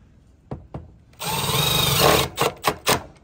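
A power drill drives screws into the edge of a gutter outlet. Two light taps come first, then one sustained close whine and three short trigger bursts. No talk is heard.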